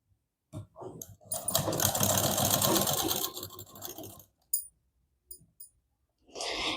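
Sewing machine stitching blouse fabric, with a loud steady run of rapid stitching for about two seconds, then short bursts and clicks, close by.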